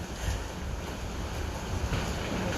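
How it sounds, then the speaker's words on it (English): Strong wind buffets the microphone in a steady, roaring rush, with a noisy low rumble and no voices. "It's so windy today."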